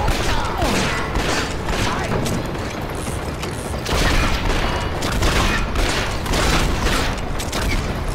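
Rapid gunfire from the Western video game Red Dead Revolver, a dense continuous barrage of shots and mechanical clatter under a loud game soundtrack.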